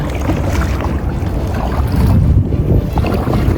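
Riding a kayak on the sea off Abu Dhabi near Lulu Island, with loud wind buffeting the microphone over a low, rushing rumble of water and motion and no voices.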